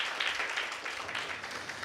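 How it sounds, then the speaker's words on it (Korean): A church congregation claps for its worship team and accompanists, a brief moderate patter of hands that stays fairly even. "찬양해 주신 분들, 또 우리 찬양 반주해 주신 분들 박수 한번 해주시면 감사하겠습니다"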